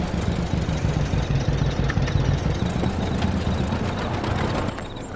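A John Deere Model A tractor engine in the Farming Simulator 22 video game runs at a steady, loud idle with a continuous low throb for about five seconds, easing slightly at the very end.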